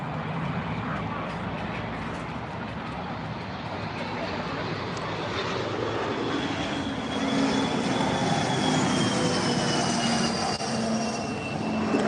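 A fixed-wing aircraft flies over near Hawthorne Airport beside a baseball field, a steady rising engine drone that grows louder toward the end, with a faint high whine and voices in the background.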